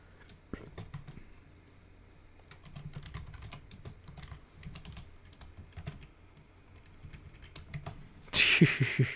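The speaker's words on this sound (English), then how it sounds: "I'm typing it out." Steady, close clatter of fingers typing on a computer keyboard, with bursts of rapid keystrokes and brief pauses, ending in a louder burst of noise.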